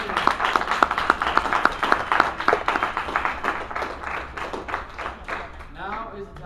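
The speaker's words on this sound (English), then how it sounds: "please round of applause" An audience at a G-Fest panel claps together in dense, steady applause that thins out near the end, with a voice briefly rising over it.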